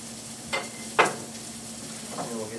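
Broccoli tossed into a pan of hot olive oil, with a couple of sharp stirring scrapes and a steady low sizzle underneath, close and fairly loud, no talk.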